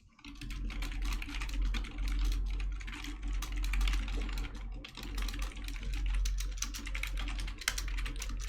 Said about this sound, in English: I'm just typing this in chat first.